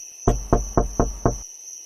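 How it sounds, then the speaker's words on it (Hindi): Five evenly spaced solid knocks on a door, close and loud, rapping at a steady quick rhythm over a faint high background tone. "वो जल्दी से अपने पड़ोस में गई और उसने ममता का दरवाजा खटखटाया।"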